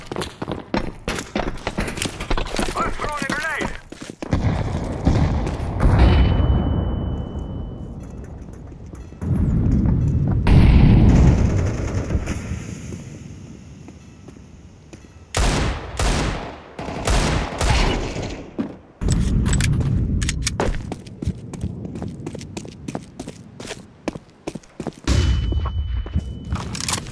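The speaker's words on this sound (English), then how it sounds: "I've thrown a grenade!" Counter-Strike 2 combat with a grenade blast and bursts of rapid gunfire, loud and close, alternating with sharp single shots and brief quieter gaps.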